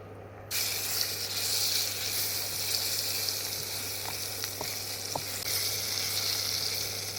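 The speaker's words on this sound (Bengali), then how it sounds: "তাই আমি লবণ দিয়ে মাছটাকে ভেজে নেবো" Steady sizzling of salted fish frying in hot oil, loud and continuous, with a few faint clicks partway through and a low electrical hum beneath.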